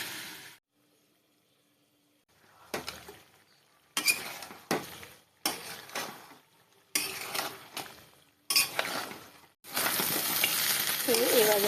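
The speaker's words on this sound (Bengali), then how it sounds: "এভাবে করে আমি চিকেনগুলি ভেজে নিয়েছি।" Chicken pieces frying in a pan, heard as bursts of close sizzling broken up by clinks of utensils and pauses between stirs, rising to a continuous loud sizzle at the end.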